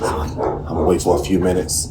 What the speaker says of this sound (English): You guys gotta excuse my dog in the background.